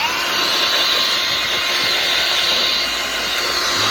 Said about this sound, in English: Handy dandy little Ryobi bench blower. It's actually like an inflator